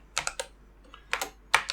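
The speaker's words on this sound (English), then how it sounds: "So we can start typing buyer" Typing on a computer keyboard: short bursts of crisp key clicks in small clusters separated by brief pauses, close and clear with no talking.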